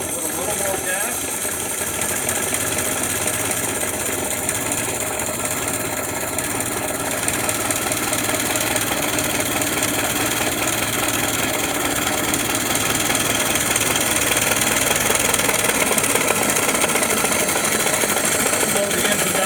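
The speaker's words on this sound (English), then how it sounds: "Slow the engine down to idle." A 1915 Ford Model T engine idles steadily with a rapid, rattling mechanical chug, close and fairly loud throughout, with occasional speech underneath.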